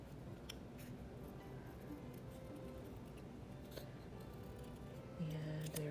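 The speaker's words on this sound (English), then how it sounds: "let me go ahead and cut out these shoes" Scissors snipping through paper to fussy-cut small shoe shapes for a layered craft tag, a steady run of soft close crisp cuts under a low background hum.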